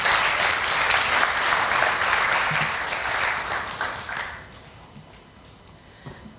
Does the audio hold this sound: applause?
yes